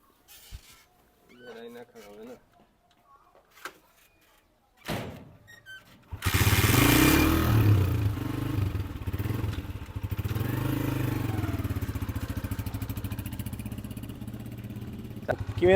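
A new Honda 125 motorcycle starts up and is ridden, its engine settling into a loud steady running note that fills the second half; earlier come scattered thumps, and voices talk over it.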